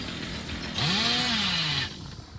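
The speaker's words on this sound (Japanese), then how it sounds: "やばい、チェーンソーが爆発する。" Hillbilly's chainsaw in the video game Dead by Daylight revs up once, rising into a loud, sustained buzzing roar for about a second before cutting off, heard close and alone.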